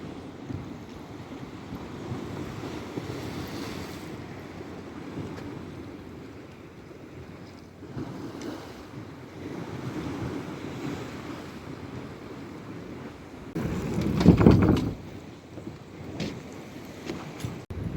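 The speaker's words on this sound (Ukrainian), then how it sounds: "Тут на плитах, мабуть, завжди такі хвилі великі" Big Black Sea waves wash over concrete slabs at Arcadia in Odesa, a continuous surf roar with wind buffeting the microphone and one louder crash near the end.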